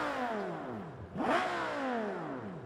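Naturally aspirated V10 of the Civetta Scintilla hypercar in BeamNG.drive revving, with rising and falling engine tones sweeping up and down through a loud blip in the middle, heard close and alone.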